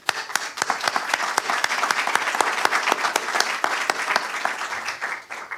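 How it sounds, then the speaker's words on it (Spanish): Audience applause at a forum on forest fires, a loud, continuous round of clapping from a full room with distinct individual claps, holding steady before tapering slightly at the end. "Para él pido un aplauso, por favor"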